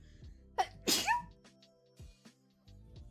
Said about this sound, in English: I feel like I need a sneeze